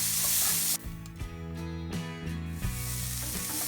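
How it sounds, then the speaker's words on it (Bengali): Loud, steady sizzling of onions frying in hot oil for mashed potatoes, with occasional stirring scrapes and a bright hiss that briefly eases before continuing. "আমরা পেঁয়াজের সাথে একসাথে ভেজে নিব"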